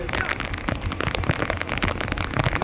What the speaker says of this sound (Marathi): जोरात पाऊस आला आहे.